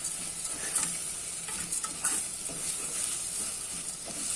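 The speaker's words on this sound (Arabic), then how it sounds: "اشوح بقى فيهم دقيقه كده" Rice-stuffed pigeons sauté in a hot pot, giving a soft steady sizzle with scraping stir strokes, close and fairly quiet, with no talking.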